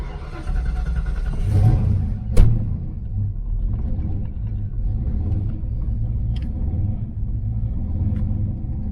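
A Ford Foxbody engine idling after a cold start, a low steady rumble with a brief rev spike early on, then settling into an even, slightly uneven idle heard up close.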